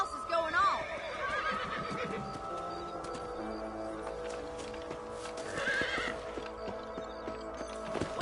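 Horses whinny and hooves clip-clop at a trot in the video game Red Dead Redemption, with music and a voice in the background.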